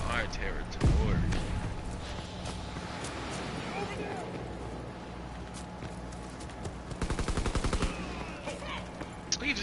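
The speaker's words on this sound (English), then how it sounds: "He just tried to shoot me from a million feet away with a shotgun." Shotgun blasts in a WWII shooter game, a loud burst near the start followed later by a rapid run of sharp shots, with a player talking over the game noise.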